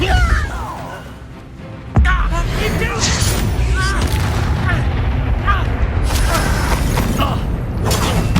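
Depulso spell cast during combat in the Hogwarts Legacy video game, a sudden forceful boom followed by dense clashing, creaking and impact effects, with a voice speaking over the game sounds.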